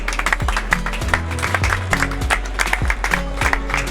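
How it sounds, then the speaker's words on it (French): A crowd applauds an entrance at a celebration, with sharp, uneven bursts of clapping over loud music with a pulsing bass line. "On applaudit très fort l'entrée des futurs états."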